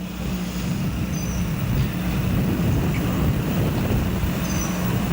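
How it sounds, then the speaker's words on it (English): Steady wind buffeting the microphone at an outdoor men's tennis match in Newport News, a continuous low rumble that fills the whole stretch without letup. "Beautiful windy day today in Huntington Park and Newport News"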